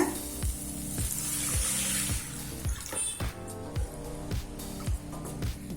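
Water is poured into a pan of sizzling masala, an onion and spice base for potato kurma, bringing a loud hissing burst that quickly settles into quieter bubbling with repeated clinks of a utensil against the pan.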